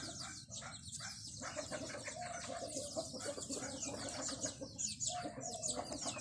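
Bantam chickens on a farm cluck and flap their wings noisily while being caught for breeding, with dense overlapping fowl calls and fluttering wingbeats that carry on steadily from start to finish.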